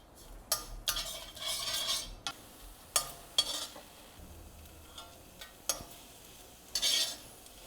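Pumpkin frying in a pan as a utensil stirs it, making intermittent scrapes and clinks against the metal over a faint, soft sizzle, quiet and close with no talking.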